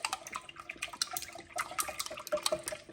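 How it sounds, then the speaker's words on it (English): Eggs and oil whisked together in a bowl for cornbread batter, a quick, uneven run of wet clicking and sloshing strokes, fairly quiet and without talk. "we're just going to whisk those together"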